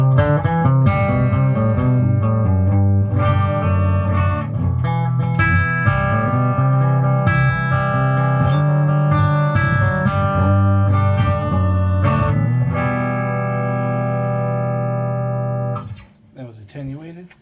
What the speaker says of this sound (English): I am playing a R7 Les Paul Gold Top,